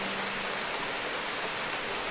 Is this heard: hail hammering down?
yes